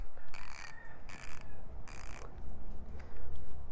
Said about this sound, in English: 3/8 drive Nepros fixed head ratchet